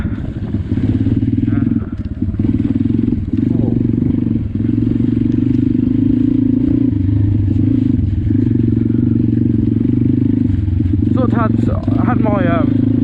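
A pit bike is ridden through mud in wet UK weather, its engine a loud, steady, close drone running the whole time with slight shifts in pitch.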